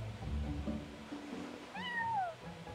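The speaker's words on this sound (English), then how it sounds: "Oh, look at him meowing." Genshin Impact in-game cat gives a single clear meow near the end, following a low ambient game soundscape with soft background tones; quiet overall.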